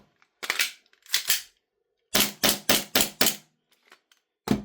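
Airsoft gas blowback pistol, a Staccato CS 2011 Deluxe Compact fed from an Army C2 magazine, fires two quick sharp snaps, then five evenly spaced cracking shots in a steady rhythm and one more near the end, loud and close with no talk.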